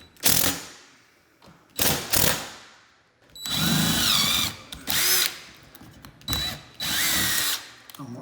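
A power drill drives short timber lock screws into a bracket while a new exhaust hood is installed, with several loud, close bursts of whirring motor and ratcheting as each screw goes in, broken by short pauses.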